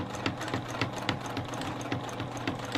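Juki sewing machine stitching slowly through a thick hexagon quilt with jumbo rick rack, a steady close mechanical chatter with evenly spaced needle thumps repeating throughout.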